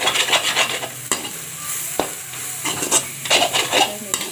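An egg for an omelette being beaten and mixed in a bowl, a steady scraping, whisking rhythm with sharper taps, loud and close with no talking.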